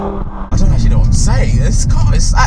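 Steady engine roar from an Audi RS3 driven hard at speed, a low continuous rumble inside the cabin with someone talking loudly over it.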